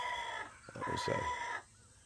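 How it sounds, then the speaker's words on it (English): A rooster gives a short alarm call warning of a threat overhead, a brief harsh squawking burst in the middle of a quiet farmyard background, fairly faint and close with other fowl around. "that's the sound the rooster makes when there's a threat flying above"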